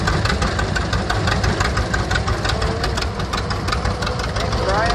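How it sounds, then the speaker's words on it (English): A vintage McCormick Gears W30 tractor engine running at an outdoor tractor parade, a loud, steady, rhythmic knocking putter close by, with a voice talking over it. "Nice running old McCormick Gears W30. That's 30 horsepower on the drawbar."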